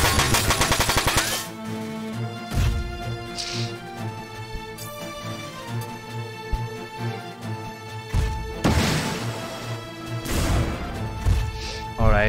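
Rapid bursts of gunfire from the video game Front Mission 4 ring out loudly in quick repeated volleys, with punchy impacts and musical sound effects layered throughout.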